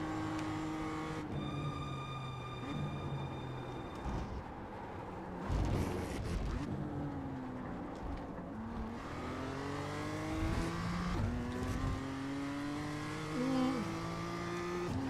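BMW M2 race car engine in the iRacing sim, revving and shifting continuously through gears on fast laps, loud and close with rising pitch sweeps, occasional tire squeal and no talking.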